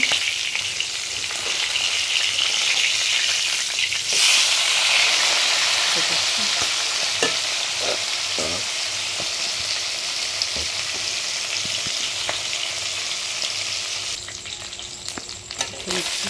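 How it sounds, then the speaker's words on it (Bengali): Basa fish fry in hot oil in a pan, giving a steady crackling sizzle throughout, with occasional clinks and scrapes as the pieces are turned. "দেখো মাছটা আমি উল্টো পাল্টা করে ভেজে নেব।"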